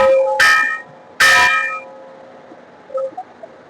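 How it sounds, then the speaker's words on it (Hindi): Big temple bell at a crowded shrine at Gogamedi, struck twice loudly and close, each clang ringing out and decaying, followed by faint crowd clatter. "तो ये है बड़ा घंटा।"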